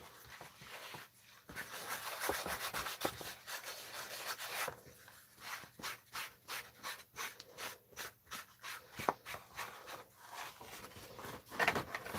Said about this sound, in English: I'm going to initially press it in with my finger, but also encourage it to rub off where there is no sticky.